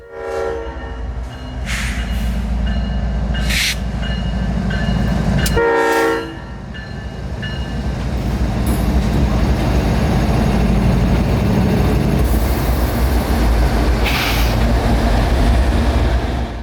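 A CSX freight train moving out of Yeoman yard, led by engines 1776 and 3194, rumbles steadily with a low engine drone, a loud horn blasting twice early on, and a hiss of air brakes.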